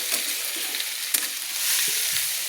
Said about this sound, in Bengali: দিয়ে আমি ভালো করে তেলের মধ্যে কষিয়ে নিচ্ছি।